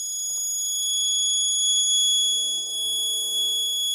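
A vehicle tracking and locking system's alcohol-detection alarm buzzer sounds as a steady, loud, high electronic tone that holds without a break, alone in a quiet room.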